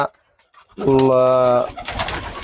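Pigeons cooing close by, a single loud, resonant, drawn-out coo after a quiet gap, with faint bird noise trailing after.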